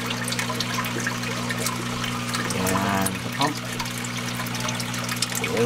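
An aquarium filter pump runs with a steady electrical hum while water trickles and splashes close by, a brief bubbly gurgle rising midway, and someone talks over it.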